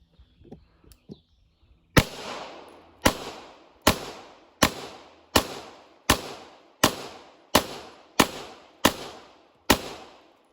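Eleven sharp, echoing pistol shots from an M9 9mm fired at a watermelon outdoors, evenly spaced about three-quarters of a second apart, each ringing off after a crisp crack, preceded by a few faint clicks.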